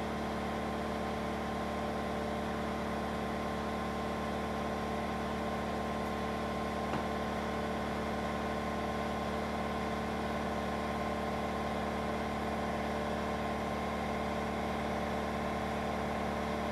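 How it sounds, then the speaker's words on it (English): An air compressor runs continuously in a workshop where a guitar kit is being built, giving a steady, even, mid-loud mechanical hum with no breaks or speech. "Should have thrown the breaker on the air compressor."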